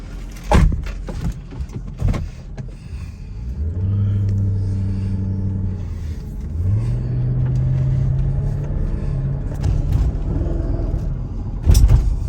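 A 2005 Mercedes SL500 with an adjustable coilover conversion drives off. The engine note climbs in two rising pulls of acceleration, with a couple of sharp thumps at the start and end, heard from inside the car without talk.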